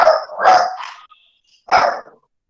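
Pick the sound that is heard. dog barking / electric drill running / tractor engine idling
dog barking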